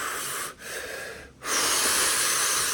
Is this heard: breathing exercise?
yes